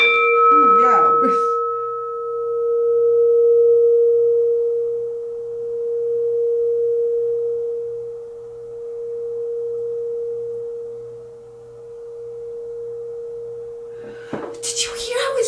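A singing bowl's long, steady tone swells and fades in slow waves, pulsating for many seconds after a brief strike, with a rustle at the end.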